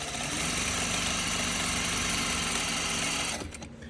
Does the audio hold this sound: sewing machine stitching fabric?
yes